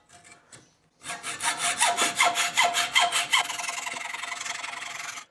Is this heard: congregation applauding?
no